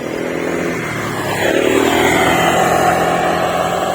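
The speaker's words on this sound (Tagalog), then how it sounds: "Galing na agad ang anak ko magmotor ah" A motorcycle ridden by a young boy drones steadily nearby, its engine note swelling a little louder partway through and holding there, with no talk over it.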